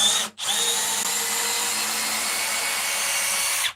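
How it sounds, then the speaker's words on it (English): A compact M12 power tool runs at speed 1 with a loud, steady high whine, briefly cutting out near the start before spinning up again and holding until it stops. "It's a very loud tool."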